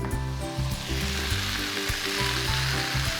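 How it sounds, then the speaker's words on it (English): Steady sizzling and crackling of spinach frying in a hot pan, continuous and close, with faint stirring bumps and no voices. "I'm going to add the spinach to the frying pan."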